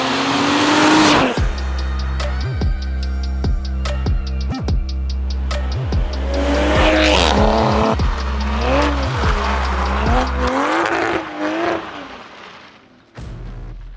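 A 2021 Toyota Supra revs hard on a canyon run, its engine climbing through repeated rising pulls with sharp shift breaks between them, loud and close, before easing off near the end.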